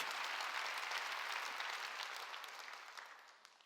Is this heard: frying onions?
no